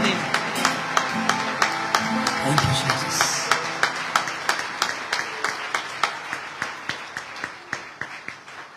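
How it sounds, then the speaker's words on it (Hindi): A worship service congregation claps in strong, even unison, sharp repeated claps keeping a regular beat for several seconds while voices sound faintly underneath. "जोरदार तालियां खुदा के जलाल के लिए"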